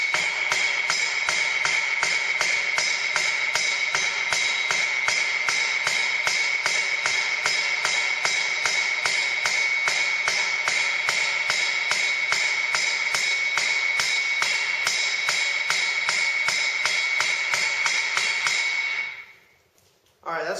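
A blacksmith forges a candle cup by hammering hot iron on an anvil: a fast, even run of bright ringing metallic strikes, loud and close, continuing for nearly twenty seconds before stopping abruptly.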